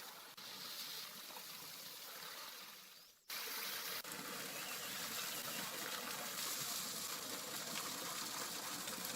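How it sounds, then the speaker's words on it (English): Clear, cool mountain stream water pouring through a natural shower in a tropical mountain forest, a steady close gush that briefly drops out for a moment before returning louder and continuing without pause. "The water flowing from the tropical mountain forest through the natural shower is very clear, cool, and healthy."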